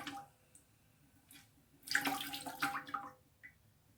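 Water is squeezed out of a freshly washed wig by hand: quiet drips at first, then a soft wet burst of trickling and splashing water that tapers back to occasional drips.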